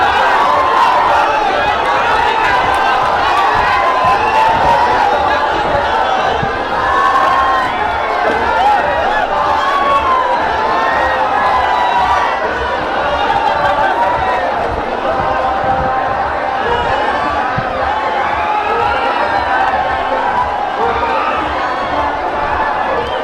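A dense, loud outdoor rally crowd in Bihar cheering, clapping and chanting slogans for Rahul Gandhi, a sustained roar with shouted voices that stays steady for the whole stretch.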